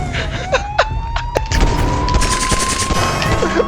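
Gunfire in a video game chase, aimed at car tires, heard as several loud sharp shots and booms over a continuous engine whine, with a crash and dense impacts in the second half.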